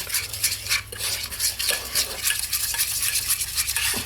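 A plastic utensil scrapes and stirs a thick paste in a pan in quick, irregular strokes, soft and close, with no voices.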